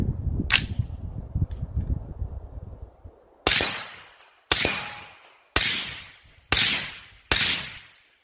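Rounds of ammunition being loaded into a UTG AR-15 magazine, five sharp distinct clicks spaced about a second apart, preceded by softer handling rattles and clatter, close and fairly quiet with no talk.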